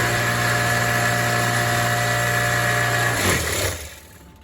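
Wet rock tumbler with a bigger motor running, a steady droning hum with faint rattling from the barrel, close by, cutting off near the end as it is switched off.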